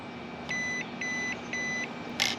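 The ESC on an Arrma Mojave Grom BLX mini RC basher gives three evenly spaced electronic beeps to set its stability control level, then a brief louder chirp, over a steady low hum.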